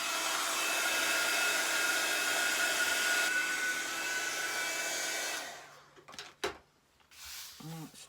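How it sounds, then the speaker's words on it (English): A craft heat tool blows hot air to dry ink on paper, a loud steady whooshing roar that cuts off after about five seconds, followed by a few clicks and light handling knocks. "And then we're going to need to dry this off with our heat tool."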